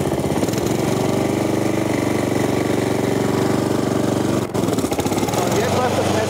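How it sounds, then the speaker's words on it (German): Lawn mower engine running steadily with its cutting blade engaged, a loud continuous mechanical drone with a brief dip near the end, heard up close while someone speaks over it. "Und jetzt läuft das Messer mit."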